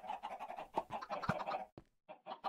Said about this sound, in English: So, then you hear a lot of chickens probably, and that is because somewhere around here, yep, his chicken farm.